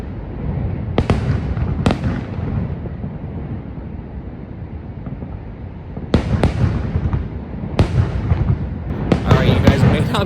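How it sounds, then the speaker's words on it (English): Fireworks bang over Niagara Falls at night, with sharp, loud bursts at irregular intervals and rumbling echoes in between, heard outdoors against wind noise, and someone talks over the display. "you can see behind me right now, there are fireworks going off."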